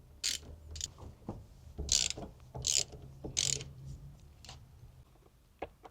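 A ratchet wrench working 14 mm seat bolts out of an Evo 8 car, several short bursts of clicking pawl sounds separated by pauses, close and fairly crisp.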